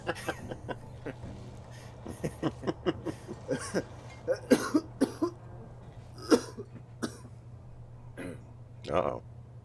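Someone coughs repeatedly in short bursts, hacking and clearing the throat at uneven intervals over a low steady hum, close to the listener.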